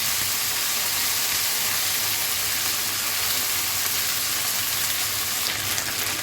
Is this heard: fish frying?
yes